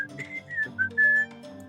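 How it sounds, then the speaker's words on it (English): Melodic whistled tune of a theme song by one person, clear and close, with rising and falling pitched phrases and short gaps between notes, no talking. "I have a whistle like an angel."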